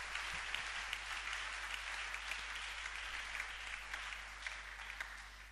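Church congregation applauding and cheering during a French-language sermon, a faint, distant wash of continuous clapping over a steady low electrical hum, fading slightly at the end.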